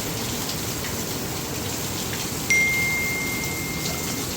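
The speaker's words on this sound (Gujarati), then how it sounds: "વરસાદ ચાલુ થઈ ગયો ફૂલ અવાજ આવે." Steady heavy monsoon rain pours down without a break in Jamnagar, a dense and continuous wash of drops striking surfaces close by, with one brief thin tone cutting in partway through.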